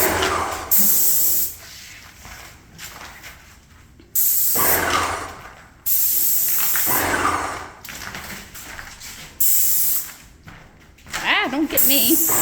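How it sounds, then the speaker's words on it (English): Paint sprayer fitted with a 211 spray tip giving a 4-inch fan, shooting in several loud bursts of hiss with short gaps between, and people talking in the pauses. "I'm using a 211 spray head, which basically means it's got a 4-inch"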